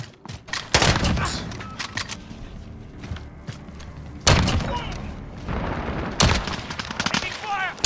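Video game gunfire: loud bursts of shots and rapid fusillades, with sharp separate volleys coming in irregular clusters and quieter shots and game sounds between them.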